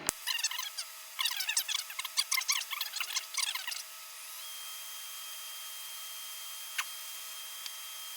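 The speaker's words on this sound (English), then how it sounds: "I'm gonna go ahead and start sanding it before I mess it up" A slightly damp piece of cherry wood is hand-sanded with sandpaper in quick, rhythmic scraping strokes for a few seconds, then stops, leaving a faint steady hum and a couple of small ticks.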